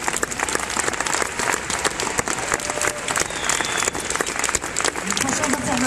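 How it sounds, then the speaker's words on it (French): An audience claps at a conference as speakers finish, the applause dense and lively across the whole stretch, with some crowd murmur mixed in. "On peut les applaudir encore."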